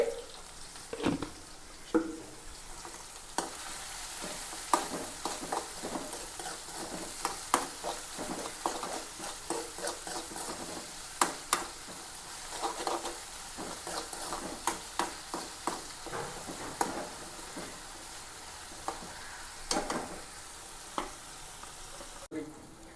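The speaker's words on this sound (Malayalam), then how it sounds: "പച്ചമുളക്, ഇഞ്ചിയും വെളുത്തുള്ളിയും എല്ലാം ഒന്ന് വാടിയിട്ടുണ്ട്." Green chili, ginger and garlic frying in a pan with salt for a fish curry, a continuous soft sizzle broken by frequent clicking spatula stirs and scrapes, moderately close, no talk.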